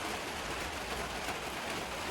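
Steady rain falls at night, a dense continuous hiss of drops spread evenly across the whole stretch with no breaks and no voices.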